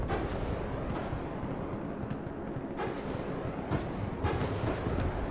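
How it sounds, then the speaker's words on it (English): Dense, continuous barrage of incoming missiles and artillery in a real-time strategy war game, a steady rumbling roar of overlapping blasts with sharper explosions breaking through near the end. "there comes all of the missiles now"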